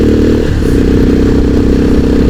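A Pulsar 220F motorcycle riding through hills in Uttarakhand, its engine a loud, steady drone mixed with heavy wind rush, with no talking.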